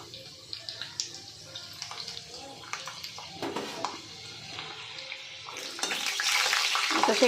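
Peanuts tossed into hot oil crackle and sizzle in a pan, a close, steady frying hiss with scattered pops that grows denser and louder toward the end.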